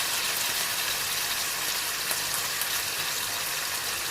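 Chicken grilling in a pan over a medium flame for pari pari grilled chicken, giving off a steady, even sizzle and hiss that runs unbroken at moderate volume with no talking.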